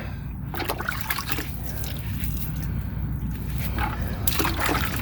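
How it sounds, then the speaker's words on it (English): A soft brush scrubs mud and muck from an injured horse's hoof, giving wet, squishy bristle scrapes in uneven bursts, close and fairly loud over a constant background rumble. "I'm using a really soft brush because I know he's got an injury on this foot, a little cut there, and I want to get all of this gunk and muck out of here."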